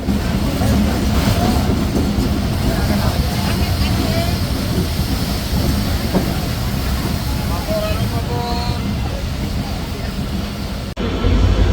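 Aboard the Barendra Express intercity train in Bangladesh, a dense rumbling rail roar carries steady clatter and faint squeals throughout, with voices murmuring beneath, before a sharp knock near the end.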